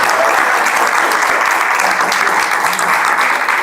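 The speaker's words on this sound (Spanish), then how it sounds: "Démonos un aplauso por estar aquí" A crowd claps loudly and continuously, a thick wash of applause that holds steady from start to finish without anyone speaking.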